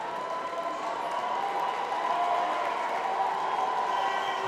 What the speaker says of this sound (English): Wonderful crowd inside the GTEC Community Stadium today as well